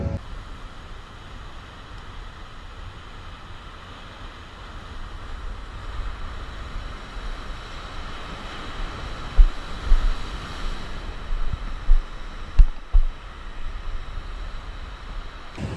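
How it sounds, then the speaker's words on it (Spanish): Waves break on a rocky sea shore fishing spot under a constant wind roar, with a few sharper splashes and thumps toward the end. "Ha subido una barbaridad la altura de ola, como medio metro así ha subido el viento"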